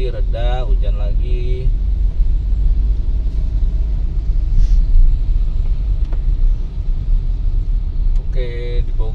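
Congested Sunday road traffic in Bogor on a rainy day, heard as a steady low rumble of car engines around a vehicle, with a person talking over it at the start and end.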